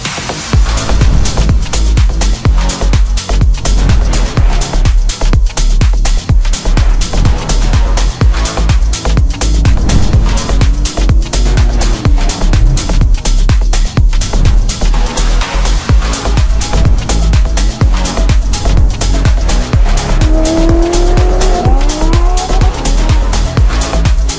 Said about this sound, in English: AMG's has this low rumbling sound. It's always like this. This has an Akrapovic exhaust.